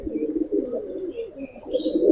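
Old-breed Giribaz pigeons and their young in a loft give soft, steady cooing murmurs that swell and fade continuously, with faint higher chirps now and then, moderately close.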